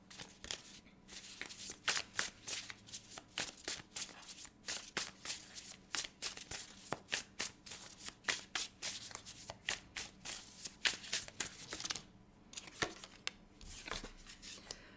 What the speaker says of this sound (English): So let's just start getting some cards out.